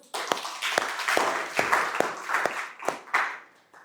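A small group in a teaching session claps, with about nine sharp, distinct hand claps spaced irregularly over a few seconds at close range and no talk over them.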